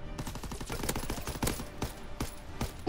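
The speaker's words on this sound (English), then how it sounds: "Were you shooting me in the back?" Bursts of automatic gunfire in a video game search-and-destroy match, the player hit from behind: sharp repeated cracks in uneven clusters, moderately loud and close, with no talking.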